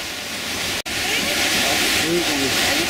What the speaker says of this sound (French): un torrent tumultueux à traverser